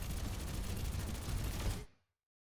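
D.Va's missiles firing in Overwatch: a dense, continuous rush of rapid blasts for nearly two seconds, then an abrupt cutoff into silence.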